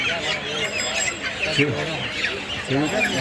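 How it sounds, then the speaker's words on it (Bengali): Chickens cluck and squawk amid a busy morning poultry market in front of New Market, Kolkata, with a dense crowd murmur, scattered bird calls close by and voices talking throughout. "নিউ মার্কেটের সামনে হাট, মুরগির হাট কত সুন্দর দেখা"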